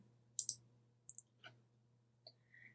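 A computer mouse button clicks a few times in a quiet room: sharp, isolated ticks close up, spaced irregularly over a low steady hum.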